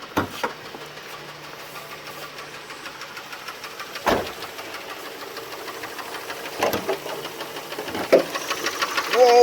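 Car engine knocking loudly near a stopped vehicle, a steady rough running tone with sharp louder bangs at intervals and a voice exclaiming briefly.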